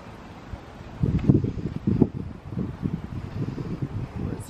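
Wind gusts outdoors near a horse, making rumbling buffets against the microphone that rise and fall steadily through the clip.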